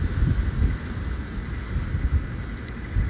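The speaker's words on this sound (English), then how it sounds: "it's really windy outside and the dust is blowing in my face." Strong outdoor wind buffets the microphone with a steady low rumble and gusty swells, loud and continuous throughout with no talking.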